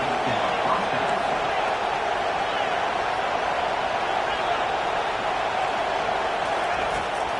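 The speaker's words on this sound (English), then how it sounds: "This crowd rising up, sensing that its defense needs some help." Broad, steady stadium crowd roar from a College Football 25 video game, a dense wash of noise holding level throughout without clear individual voices.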